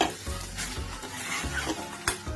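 Chicken keema fries and is stirred in a small amount of oil, with a constant sizzle broken by spoon scrapes and occasional clinks against the pan, close and moderately quiet.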